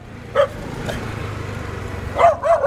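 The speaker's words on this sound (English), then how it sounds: "Fucking first time I've been chased by a dog in Thailand." A street dog in Pattaya barks while chasing a man on the road, giving one sharp bark and then a quick double bark nearby over a low engine hum.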